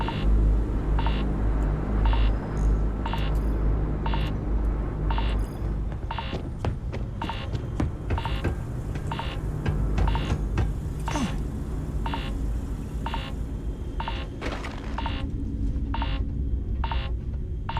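Electronic alarm beeping in the video game Starfield, a steady run of short, evenly spaced beeps repeating over a low rumbling game background, loud and persistent throughout.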